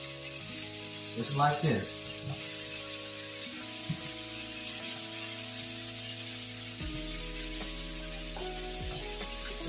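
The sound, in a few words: kielbasa sausage and potatoes sizzling in a hot skillet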